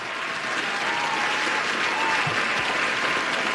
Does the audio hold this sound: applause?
yes